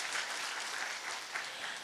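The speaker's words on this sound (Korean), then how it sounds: "한 번 더 박수 부탁합니다." A church congregation claps steadily during a sermon, a dense, even wash of applause from a sizeable crowd that holds at one level throughout without any talk over it.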